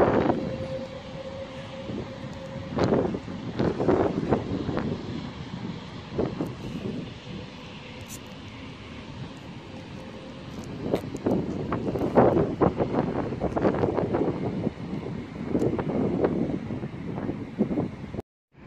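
Virgin train from London Euston to Glasgow Central arrives at Wigan North Western on the West Coast Main Line, with rumbling wheels, rhythmic clunks over rail joints, brake squeals and wind buffeting the microphone, then a sudden cutoff.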